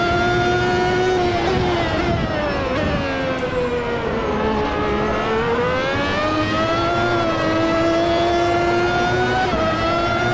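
A race car engine howls loudly and continuously at Silverstone in Automobilista 2, its pitch rising and falling as it accelerates out of corners and shifts, close and alone with no talk.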